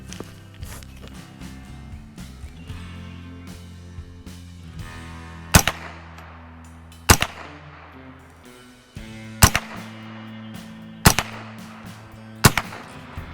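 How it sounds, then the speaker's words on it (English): Rifle fired at a target while testing a UUQ 3-9x40 compact scope: six loud, sharp shots a second or two apart, separated by quieter handling and shuffling sounds. "So let's go ahead and take some shots"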